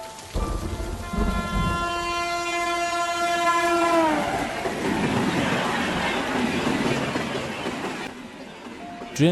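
A passenger train sounds a long, loud multi-tone horn that bends downward as it fades, followed by the rumble and rattle of the running train with a rain-like hiss in a Bengali horror cartoon.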